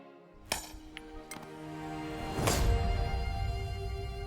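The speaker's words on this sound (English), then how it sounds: "I'm ready to split it open by hitting very hard on each wedge with a big sledgehammer" A sledgehammer strikes iron wedges driven into stone to split it in Age of Empires 4, with a few sharp metallic clinks followed by a louder crack and a rumbling break, set against faint game ambience.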